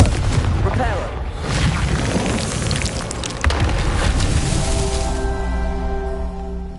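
A Confringo blast spell from Hogwarts Legacy bursts as a booming, crackling fiery explosion, rumbling loudly for several seconds before settling into a fading, ringing tail.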